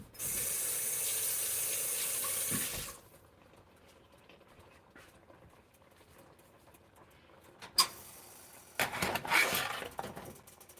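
Water from a kitchen tap pours steadily and fairly loudly into a chili pot for about three seconds, then stops. Quiet follows, broken by a sharp clink and a few clattering pot and utensil sounds.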